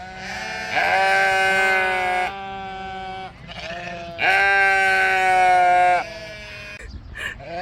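A goat bleats two long, loud, nasal cries close by, with a short pause between them and a brief voice at the end.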